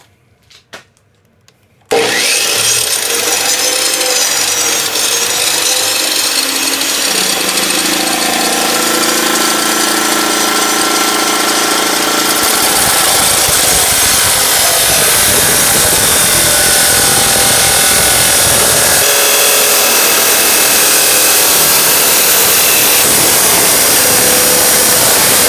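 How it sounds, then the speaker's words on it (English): An abrasive cutter bites into angle iron for a ladder hanger bracket. A loud, continuous grinding whine starts abruptly after a brief quiet moment and holds steady at close range for over twenty seconds, with no speech. "So I've got the angle in the abrasive cutter"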